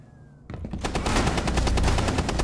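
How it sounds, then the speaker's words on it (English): Shotgun blasts from a first-person shooter, Rainbow Six Siege: after a brief quiet lead-in with a faint tone, a loud, dense run of rapid overlapping gunshots fills the rest, close and continuous with no talking. "This shotgun shoots so slow"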